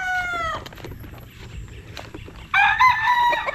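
Roosters and stag gamefowl crow loudly nearby, one crow at the start and another after a pause, with scattered clucks and farmyard rustle in between.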